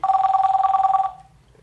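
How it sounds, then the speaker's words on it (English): A telephone bell rings in one loud, rapidly trilling burst of about a second, then cuts off and leaves a quiet room-tone tail. Nobody speaks. "Is it ringing?"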